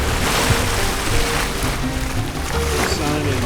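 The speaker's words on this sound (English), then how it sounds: "we've got a nice land breeze right now, so we're sailing again" A sailboat moves through waves under a land breeze off rural Mexico in the early morning, with steady broadband wash of water and wind against the hull continuing throughout.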